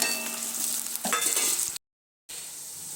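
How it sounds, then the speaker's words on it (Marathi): Finely chopped onions hit hot oil already holding mustard seeds and curry leaves, bursting into a loud steady sizzle with a brief stir, then a short gap before the frying continues. "तेलामध्ये मोहरी आणि कढीपत्ता टाकलेला आहे. आता हे बारीक चिरलेले कांदे टाकून घेते."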